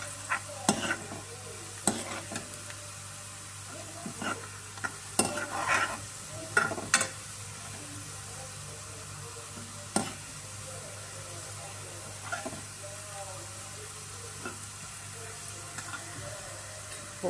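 Onions browning in a pan: a quiet continuous sizzle with intermittent scraping and clinking of a spoon stirring, scattered irregular strokes over a low steady hum, no talk.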